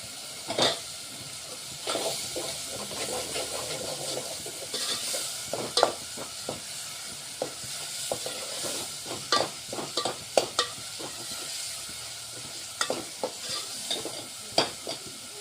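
Brinjal masala sizzling in hot oil in a kadhai, a steady frying hiss broken by repeated sharp scrapes and clinks of a spoon stirring against the pan, close and fairly loud.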